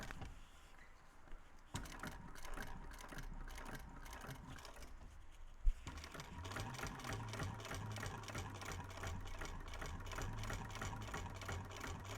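A sewing machine runs top stitching on a small bowler bag, a steady rapid chatter of needle strokes with a couple of brief clunks as it pauses and restarts, close and continuous throughout.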